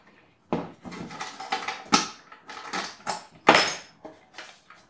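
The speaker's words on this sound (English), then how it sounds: "So let me lock up the gun." A gun is locked into a car lockbox fitting, giving a close, irregular series of metallic clicks, clanks and short creaks separated by brief pauses, with no voices.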